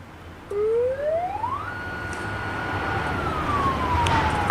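An ambulance siren winds up from low to a high steady wail, holds, then starts to fall, fairly near over faint traffic noise.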